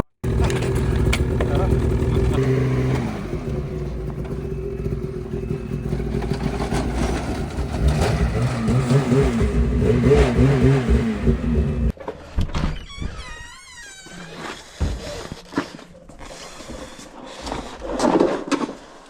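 A Ski-doo snowmobile engine fires up and revs, its rising drone running under near, continuous conversation before sputtering into irregular bursts.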